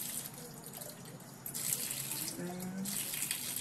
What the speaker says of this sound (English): you want to make sure that the water pours a steady stream so it doesn't overfill or underfill